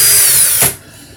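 A power drill spins a coil-building swivel at high speed, a loud, bright whine that holds steady, then winds down abruptly as the motor stops.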